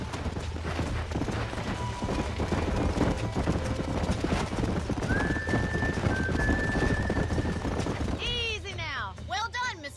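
Steady horse hoof clip-clop from a Red Dead Redemption game scene, continuing under other game sounds, with a brief horse whinny near the end.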